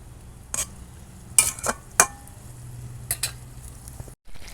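A vegetable chop mixture stirred in a pan: a few scattered spatula scrapes and metallic knocks at close range over a faint, steady sizzle, with brief quiet gaps between strokes.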